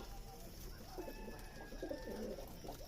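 Giribaz pigeons coo in soft, repeated low calls close by at a pigeon farm, over a faint background hum, with no talking.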